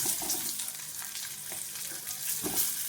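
Vegetables and kasuri methi fry in hot oil for a homestyle shukto, giving a steady close sizzle with soft stirring scrapes throughout and no voices.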